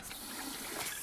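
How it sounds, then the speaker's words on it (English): Brief burst of trickling, gushing water as a character drinks in the survival video game Icarus, moderately loud and alone for about a second. "Let's take a drink of water."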